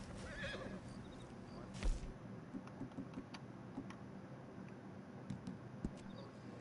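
A horse neighs in Red Dead Redemption 2, a short whinny near the start followed by a louder burst around two seconds, with faint hoof clops and game ambience underneath.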